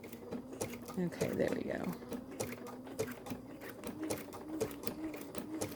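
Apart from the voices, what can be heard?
sewing machine doing a single stitch on appliqué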